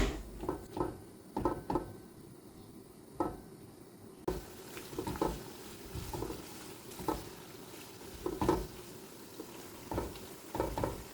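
Carrots briefly frying in hot oil for a lecho preserve, with a continuous sizzle broken by repeated clinks and scrapes of stirring at an uneven rhythm.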